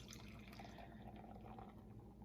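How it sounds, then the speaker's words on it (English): Imperial milk stout, a double coconut sweet beer at 11.5%, poured aggressively into a glass, giving a steady close liquid rush and fizz throughout with no talking. "So let's get a pour on this thing."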